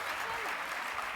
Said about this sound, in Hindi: जोरदार तालियों से इनका हम अभिनंदन करते हैं।